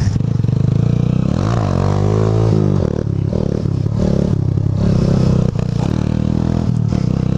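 Honda Titan 150 motorcycle engine revving hard while riding, loud and close, with rising and falling harmonic sweeps as the throttle opens and eases, and slight sputtering toward the end.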